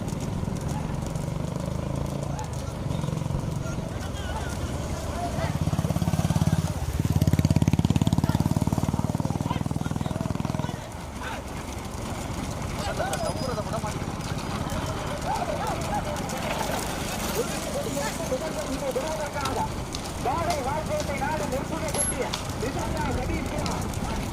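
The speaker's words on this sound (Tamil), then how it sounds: "அந்த மாட்டை ஓட்டி வருகின்ற சாரதி மணி" Bulls pull carts at a big-bull bullock cart race in Paganeri, their hooves clattering within a steady roar of crowd and engines while an announcer talks throughout.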